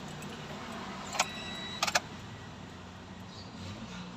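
Keys jangle in a 2019 Toyota Vios as the ignition is readied, a few sharp metallic clinks over a low, steady background hum, close up and brief.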